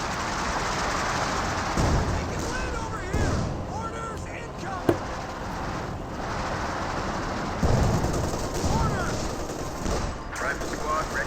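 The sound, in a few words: MG34 machine gun fire in video game Company of Heroes 2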